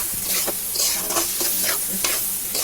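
Ribbonfish and spices sauté in an oil-filled wok, with repeated scraping stir strokes over a continuous close sizzle and no talking.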